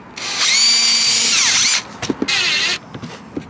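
Power drill whining at high speed while boring a pilot hole in a Maxton Design front splitter on a 2022 Skoda Octavia Mk4 vRS: a loud sustained run that winds down, then a second shorter burst with small knocks between.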